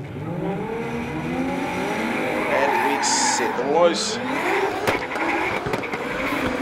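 Drift car engines rev and rise in pitch over a steady rumble while a commentator talks above them, with brief tire squeals, at a professional drifting championship battle in Wellington.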